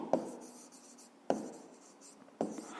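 Pen or chalk writing out a fifth-grade math answer, three quiet scratchy strokes spaced about a second apart, close and soft with no talk.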